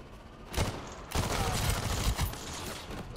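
Gunfire from the video game Crime Boss: Rockay City comes as dense bursts of shots, a first volley then a longer sustained fusillade, loud and close with background game noise.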